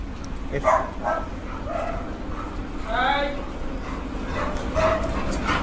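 Dogs in a breeding kennel give scattered yips, whimpers and short barks at mid distance, mostly under someone talking nearby.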